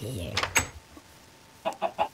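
Chickens cluck in a Minecraft skyblock game, two short clucks near the start and then a quick run of three clipped clucks near the end, fairly quiet.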